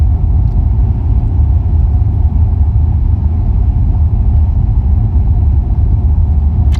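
A car drives along a scenic country road near Vanderpool and Leakey, its steady low engine and tyre rumble continuous and close throughout, with no voices.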